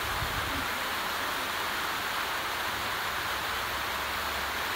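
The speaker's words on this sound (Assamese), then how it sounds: "তাৰপিছত আকৌ এতিয়া বৰষুণ দিছে" Heavy rain pouring steadily outdoors at night, a dense, even wash of hiss with no breaks, close and fairly loud throughout with no voices.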